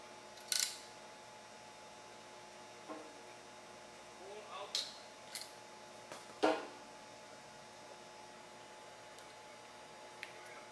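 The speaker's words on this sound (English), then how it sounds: "Start off by cutting the jacket off of the wire." Sharp snips and clicks of cutters trimming the outer jacket off a Cat5e network cable, a few isolated close cuts spread over quiet background.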